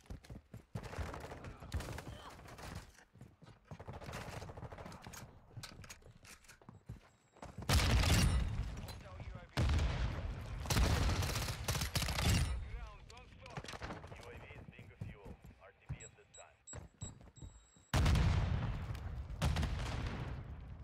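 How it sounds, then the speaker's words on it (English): Shotgun blasts ring out in Call of Duty Modern Warfare 2, several loud, heavy booms separated by pauses, with quieter clatter and a voice speaking between them. "shotgun."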